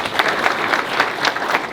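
Audience applause at a golf outing gathering for the Durand Stephens Foundation, a moderate spread of clapping from a modest crowd, steady with soft pulses and no voices over it.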